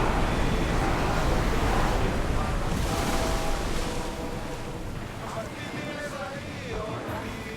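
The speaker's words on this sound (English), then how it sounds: "Whoa! Feel that wind!" Wind and ocean waves rush past a sailing ship in Assassin's Creed Odyssey, a loud, dense roar of gusts and surf that eases slightly partway through and continues unbroken.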